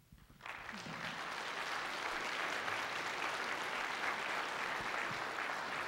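An audience applauds after a lecture on the genetics of obesity and weight loss; quiet at first, then a sudden burst of dense clapping that holds steady and fairly distant for several seconds.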